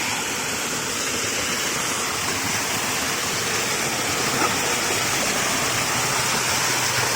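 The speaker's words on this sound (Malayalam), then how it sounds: "നമ്മൾ വട്ടവടയ്ക്ക് പോകുന്ന വഴിക്ക് കണ്ടൊരു ചെറിയൊരു വെള്ളച്ചാട്ടമാണ് റോഡ് സൈഡിൽ തന്നെ." A small roadside waterfall on the road to Vattavada in Kerala's hills gives a steady, close, broadband rush of falling water that stays constant throughout, with no voices.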